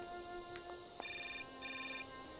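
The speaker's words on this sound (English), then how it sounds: "Oh, look, another phone call." Telephone ringing in the video game Syberia, two short electronic trilling rings in quick succession after a couple of brief tones, faint and clean.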